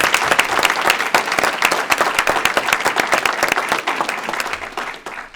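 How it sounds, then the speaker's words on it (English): A crowd at a school board meeting applauds steadily, dense overlapping claps holding strong before tapering slightly toward the end. "So if we could give her a round of applause."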